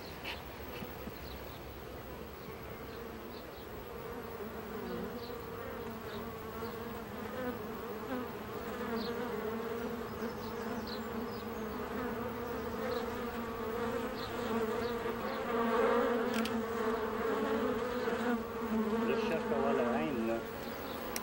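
Many bees drone in a low, continuous buzz that swells slightly over time, a busy hive hum softened by smoke, with no talking.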